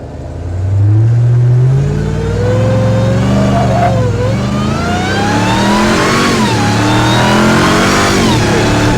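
A 700-horsepower all-wheel-drive Hemi truck revs hard and accelerates on an access road in Mexico, its engine note climbing loud and close through repeated rising pulls for the whole stretch.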